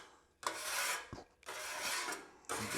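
A metal scraper rasps across a Blackstone flat-top griddle over a low flame, clearing stuck food residue and oil; two long, loud scraping strokes with a brief knock between them, close up and with no talking.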